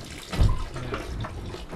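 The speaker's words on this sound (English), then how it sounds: "you mix the dirty underwear around in the sink" Water sloshes and splashes in a boat's sink as dirty underwear is stirred with a wooden spoon in water and laundry liquid, a close, continuous rinsing swish with a brief louder splash early on.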